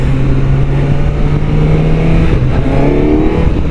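A 2024 Suzuki GSX-S1000GT motorcycle accelerates hard on a highway, its engine note climbing steadily through the revs and dipping briefly at a gear change. The sound is loud and close, with wind rush underneath.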